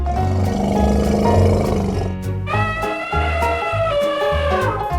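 A cartoonish elephant call from a 3D animal slide video game, loud and drawn out in two long harmonic blasts, with no talking.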